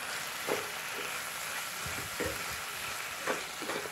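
A spatula stirs spices, cumin and coriander powder with chili powder, in a frying pan of oil for chicken kasha gravy: a steady sizzle with repeated scraping strokes, close and without talk.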